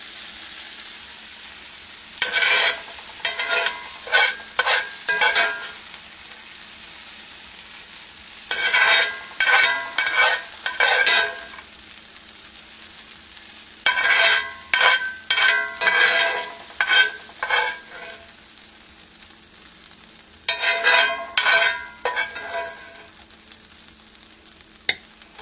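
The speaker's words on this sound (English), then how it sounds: "I'm just going to transfer the vegetables into the crock pot." Cooked vegetables spooned from a pan into a crock pot: repeated bursts of scraping, clinking spoon strokes come in four clustered groups with quiet pauses between, close and fairly loud, no talking.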